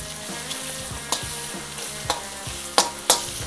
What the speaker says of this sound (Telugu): ఇది పచ్చివాసన పోయేంత వరకు బాగా వేపుకోవాలి.